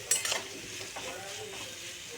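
A spoon knocks, then stirs a sizzling mixture of tomato, chili powder and turmeric in a pan, with brief scrapes over a soft, steady frying hiss.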